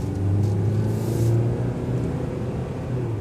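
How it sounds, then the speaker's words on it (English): A 2015 Hyundai Tucson engine while driving, a steady low rumbling drone with a slight rise in revs near the start, heard alone inside the cabin. "You hear that engine?"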